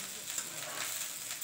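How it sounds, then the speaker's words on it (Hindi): Fried rice sizzles and crackles steadily in a hot pan. The hiss is close and continuous, with light stirring scrapes running underneath. "अब इसको थोड़ा सा फ्राई कर लिए दोस्तों"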